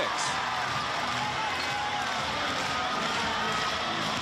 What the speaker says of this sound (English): Really hear that crowd rocking